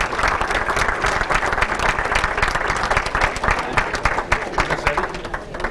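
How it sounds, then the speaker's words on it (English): Audience at a sports hall of fame banquet breaks into loud, dense applause, many hands clapping steadily and close for several seconds with crowd noise mixed in. "We want to give you a big round of applause."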